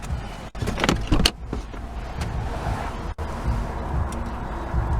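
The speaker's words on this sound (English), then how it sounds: "Gotta park the car" Sounds from inside a car being parked: a low engine hum, a mechanical whir like a power window moving, a couple of sharp clunks and a short rattle, all fairly close.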